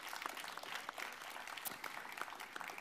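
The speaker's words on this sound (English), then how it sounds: "On peut applaudir quand même" Applause from an audience at a media prize ceremony, a steady patter of many hands clapping for a few seconds, moderately distant.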